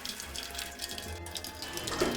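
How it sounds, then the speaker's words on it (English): Tea pouring from a spout into a cup as part of a mechanical tea-making contraption, a steady trickling splash of liquid, close and moderately loud, with no voices. "And pours a cup of tea."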